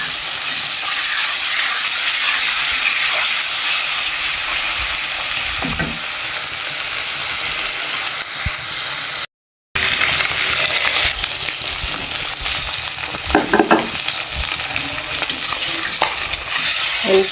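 Koi fish coated with turmeric and salt fry in hot oil, giving a loud, continuous sizzle and hiss with occasional stirring clatter and one brief break in the sound.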